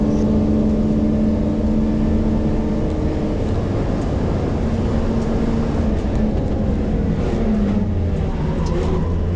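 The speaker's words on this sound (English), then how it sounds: "By mid-straight, the BMW 6 is stretching its legs and pulling out a healthy lead" A BMW race car accelerates hard down the straight at Pukekohe, its engine a loud, sustained roar with a steady rising tone that stays close and continuous the whole way.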